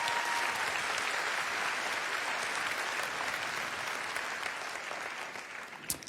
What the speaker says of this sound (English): I just love it if we could give them a short round of applause for this moment